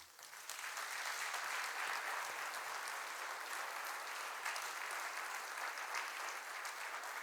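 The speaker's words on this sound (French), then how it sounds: "que je vous demande d'applaudir" An audience at a New Year's speech event in Saint-Leu-d'Esserent applauds steadily for about seven seconds, a dense, even wash of clapping from many hands with no voices over it.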